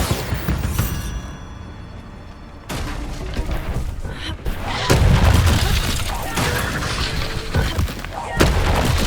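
Bombarda spell blasts in the wizarding game Hogwarts Legacy, with several booming explosions and crashing impacts over dense game noise, the loudest near the middle and end, with a voice shouting spell names.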